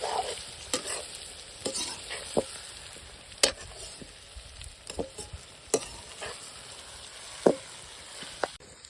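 A spatula stirs brinjal and dried fish curry frying in a pan, with repeated sharp scraping knocks at irregular intervals over a continuous soft sizzle, close and without speech.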